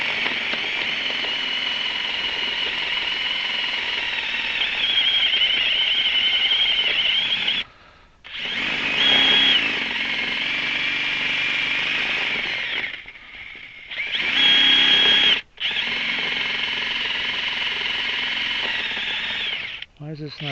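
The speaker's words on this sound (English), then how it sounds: "Why is this not drilling?" A power drill grinds into a tree stump in long, loud, high-pitched runs, stopping briefly three times before starting again, heard outdoors close up.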